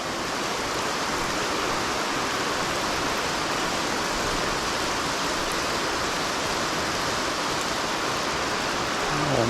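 Heavy rain pours down steadily during a fishing outing in a rainstorm, a dense, continuous broadband hiss that stays loud and unbroken throughout, with no voices over it.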